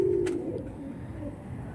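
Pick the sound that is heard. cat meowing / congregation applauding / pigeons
pigeons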